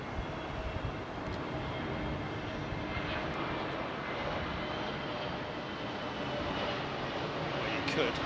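Jet aircraft on approach to London Heathrow, a steady broadband engine roar that holds at a fairly constant level and swells slightly toward the end, with faint talk mixed underneath.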